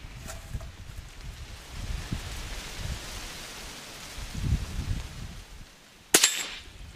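A Henry Silver Eagle .22 carbine fires one sharp, fairly close crack near the end, following several seconds of steady, rain-like outdoor background noise.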